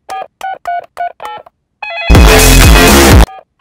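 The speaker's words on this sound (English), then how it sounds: "I will ring for the rescue services." A telephone being dialed in a Peppa Pig cartoon: a rapid series of about six electronic key beeps, then a loud, harsh burst of distorted tone, all close and clear with no talk over it.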